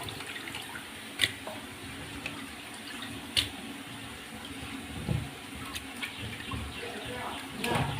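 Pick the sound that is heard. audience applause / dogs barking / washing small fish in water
washing small fish in water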